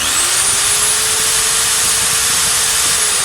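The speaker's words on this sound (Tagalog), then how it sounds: "kapag pinandar nyo yung barena ng sunod-sunod, or pitik-pitik, chik-chik-chik, mataas yung current" An electric drill runs continuously at steady speed, a loud, close, high motor whine with a hissing edge that holds level throughout, with no talk.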